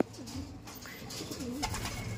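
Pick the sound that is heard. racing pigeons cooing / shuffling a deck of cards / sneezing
racing pigeons cooing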